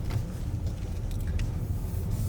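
Mazda hatchback with a 2000 cc engine driving, heard from inside the cabin as a steady low engine and road rumble with no break.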